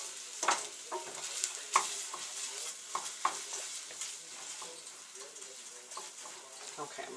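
Sauce ingredients being stirred into vegetables in a hot pan for spaghetti sauce and meatballs, with a soft sizzle and scraping stir strokes up close, and a voice faintly talking underneath.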